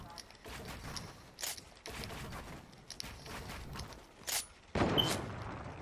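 Sniper rifle shots in the game Fortnite, several sharp loud cracks spaced apart, one near the middle and a heavier blast near the end, with rustling movement between them and a voice talking at times.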